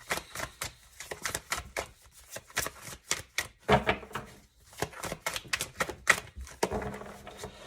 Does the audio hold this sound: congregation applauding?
no